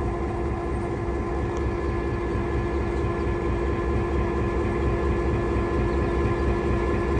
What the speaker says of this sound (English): the locomotive will go past our train on track number 2 and then do a switch